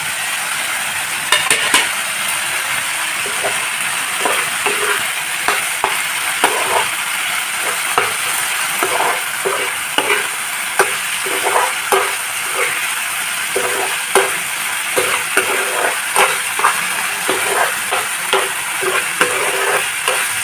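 Paneer sizzling loudly in a hot pan for paneer masala, with repeated scraping stirs of a spatula against the pan over a steady frying hiss, close and without talk.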